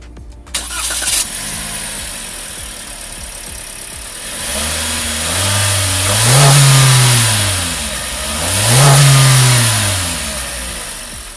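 A 2022 Toyota All New Avanza engine cranks and catches, settling into a steady idle, then revs up twice in smooth rising and falling swells, close and loud with no talking.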